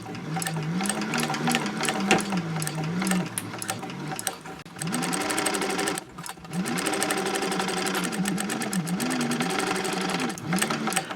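A sewing machine stitches the side seams of a fabric caddy with a long 4.0 stitch length: a close, steady mechanical whir with a fast rhythmic needle clatter, pausing briefly twice and then resuming.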